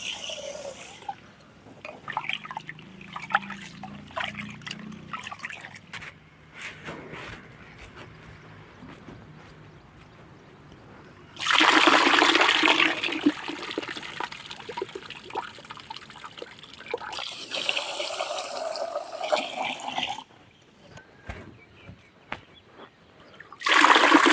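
Water pours in bursts over soaking parboiled rice with a rushing, splashing sound, stopping and starting again, between quieter stretches of faint trickling and handling noise.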